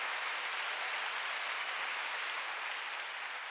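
Concert-hall applause for a trombonist with the Sofia Philharmonic Orchestra: a dense, even wash of clapping from a large audience, steady and moderately distant, with no voices over it.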